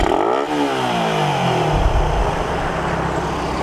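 A Raider 150 motorcycle engine fitted with a 28mm round stock part, revving up during a tune test, a loud close rising roar that settles into a steady high idle drone with no talk.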